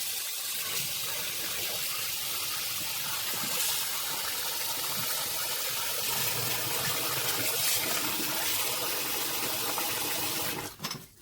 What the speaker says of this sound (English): I'm going to open the faucet and add some water.